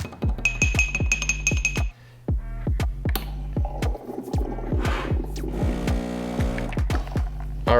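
A Breville espresso machine pulling a shot of espresso, with a steady low pump drone pulsing in rapid regular beats, a thin high tone early on and a brief dip before the pumping resumes, close and without speech.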